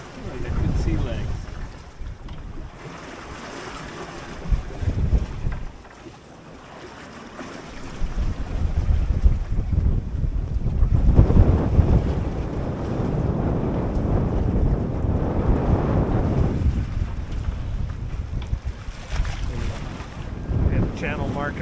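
Strong wind buffets a sailboat at sea off the Atlantic coast, roaring steadily against the microphone with waves washing by, swelling louder midway and continuing throughout.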